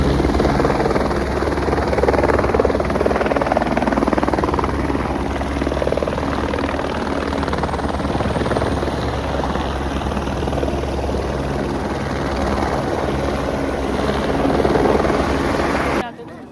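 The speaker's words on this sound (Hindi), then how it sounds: "तो हेलीकॉप्टर भी आए।" A helicopter drones loudly and steadily overhead near a helipad at Kedarnath, its low rotor throb constant throughout, with voices faintly mixed in beneath the engine noise.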